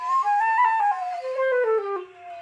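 A breathy open-holed flute played with its holes left uncovered plays a short wavering phrase, its pitch sliding and slipping between notes with an airy, unstable tone.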